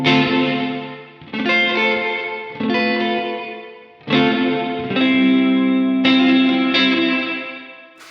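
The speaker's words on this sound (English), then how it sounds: "it's like a beautiful and lush reverb." An electric guitar runs through a Cornerstone Nucleo reverb pedal on its room setting, with a series of strummed chords each ringing out into a lush, smooth decay, played alone with no talk.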